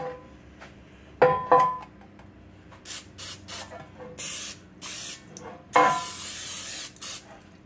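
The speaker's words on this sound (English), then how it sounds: "I'm just going to use some butter spray in it." Several short hissing bursts of butter cooking spray into a pan, a longer one near the start and another later, close by with faint handling noises in between.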